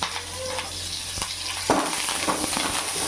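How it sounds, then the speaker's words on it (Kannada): Onions frying in a pan for chicken sambar: a steady sizzle runs throughout, with a louder burst of crackling partway through as stirring stirs up the oil, close and alone without any talk. "ಈರುಳ್ಳಿ ಒಂಚೂರು ಹಾಗೆ ಫ್ರೈ ಮಾಡಿಕೊಂಡು ಕರಿಬೇವು ಹಾಕ್ಕೊಬೇಕು."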